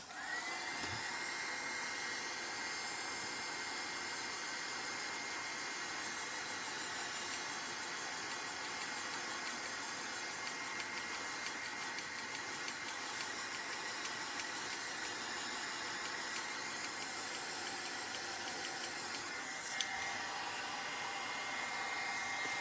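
A heat tool drying a mixed-media canvas, a steady loud whirring blower hum that runs unbroken throughout, with no talk over it.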